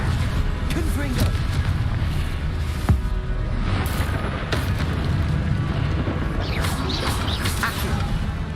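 Confringo fire spell explosions in the video game Hogwarts Legacy: continuous booming, crackling blasts and crashes layered over a dense roar of battle, with several sharper impacts throughout.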